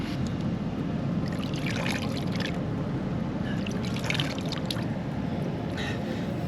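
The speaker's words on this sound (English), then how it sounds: "I'm hoping this is a little freshwater stream." A small freshwater creek trickles across a beach, a close, continuous burble and splash of running water over a steady low rush. Brighter splashes come and go throughout, with no talk.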